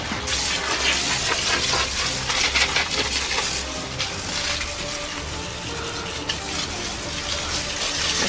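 A shower-setting hose spray waters loose dirt, a steady close hiss of water with spattering droplets, continuous and fairly loud with no talking.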